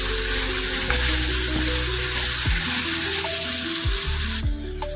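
A pointed gourd filling sautés in oil, giving a steady close sizzle with occasional clinks of a utensil against the pan.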